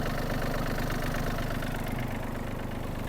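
A Yanmar RS-27 Japanese mini tractor's small diesel engine idles steadily nearby, an even, throbbing chug with a slight knocking beat and no voices.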